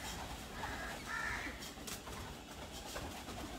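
Pigeons in a coop kept sheltered from cold and wind give low, muffled coos and soft calls, a steady close murmur of birds with a few brief fluttering rustles and no talking.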